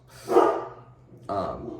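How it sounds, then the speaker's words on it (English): Two loud barks from pet dogs indoors, one then another after a pause of about a second, close and clear with no talk over them. "There's my dogs."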